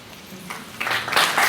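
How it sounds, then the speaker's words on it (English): Audience applause at a candidates night meeting, a short burst of clapping that swells from faint to fuller and louder toward the end. "Please try to hold your applause until the end now with these questions."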